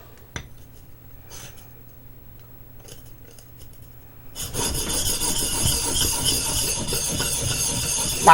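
Chisel on a Baryonyx American Mutt sharpening stone: a quiet, sparse start with faint taps, then steady loud abrasive rubbing strokes of steel on stone from midway to the end.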